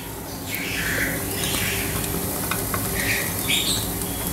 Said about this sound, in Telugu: బటర్ వేసిన వెంటనే ఈ ఉల్లిపాయలు వేసేయాలి.